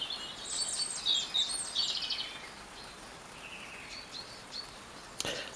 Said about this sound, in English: It's just so lovely to sit here and listen to the birds.